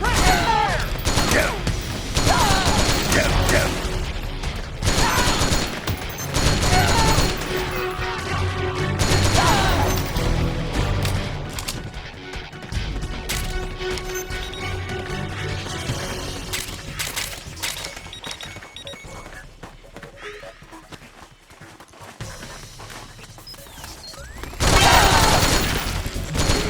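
Dense volleys of suppressing gunfire rattle through a Metal Gear Solid 4: Guns of the Patriots battle, loud bursts and crashes that rise and fall over about half a minute before easing into a quieter stretch and surging again.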